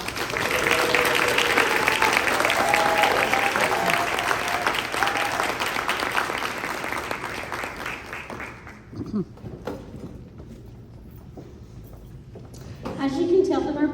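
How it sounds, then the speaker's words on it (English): Banquet audience at an FFA awards banquet applauds an honored chapter member, a dense sustained round of clapping that gradually thins and fades out, followed by scattered noises and a voice beginning to speak. "Please join me in applauding her again for all her service to our chapter."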